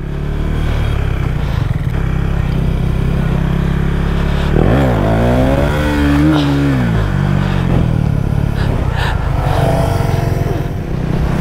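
A motorcycle pulls away at the start of a monsoon ride toward Netarhat, its engine loud and close and rising in pitch as it revs and shifts over steady wind rush.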